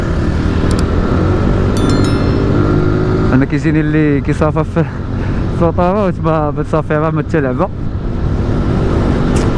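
A Zontes 155U motorcycle ridden on an open road, its engine a steady continuous drone with wind rush throughout, while someone talks over it for much of the ride.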